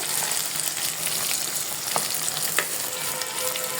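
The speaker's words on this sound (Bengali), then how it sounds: "আর আলু আর পেঁপেটা একটু ভাজা হবে একটু লাল লাল হবে" Potato and papaya pieces fry in a pan, giving a steady close crackling sizzle with scattered pops and light clicks throughout, no voices.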